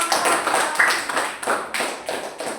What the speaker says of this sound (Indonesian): Kita kasih tepuk tangan sama kelompok 1.